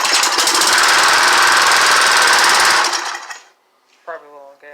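A small engine on a homemade portable DC generator runs with a loud, rapid, rattling chug for about three seconds, then dies away, followed by brief speech.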